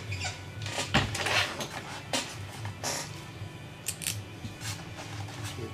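Blade slicing through tape on a Parkzone P-47D model plane foam wing, a series of sharp, close crackling cuts and snips in irregular bursts, with no talking.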